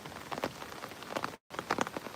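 Steady rain patters densely on a surface in a riverside area near Mullaney, about two hours from Brisbane, with irregular close drops and splashes and a brief dropout in the middle.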